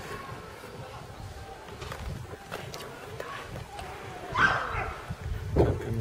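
A dog facing off against a cat in Russia barks and whimpers in a few short bursts, loudest near the end, with some background noise between.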